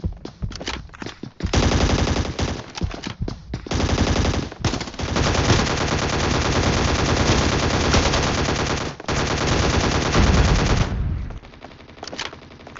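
Sustained bursts of rapid automatic gunfire from the video game Scarfall 2.0, loud and continuous with brief pauses between volleys.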